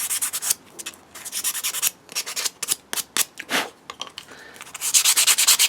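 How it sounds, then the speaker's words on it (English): Sandpaper rubs lightly over the micarta handle scales of an ESEE 4 knife in quick, close, repeated scratchy strokes, each rasp rising and fading in a steady back-and-forth rhythm. "You can just give them a very light sanding down."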